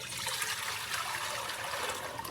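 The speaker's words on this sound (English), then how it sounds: "go ahead and pour our tea back into the pot" Lemon balm tea pours steadily back into a pot, a soft continuous trickling stream of liquid, fairly quiet and heard alone without any talk.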